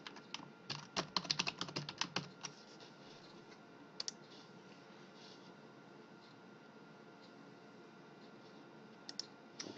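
Fingers tap out a username and password on a computer keyboard in a quick burst of clicky keystrokes, then fall quiet apart from a few isolated key presses over faint room hum.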